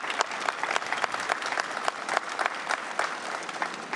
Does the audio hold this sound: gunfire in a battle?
no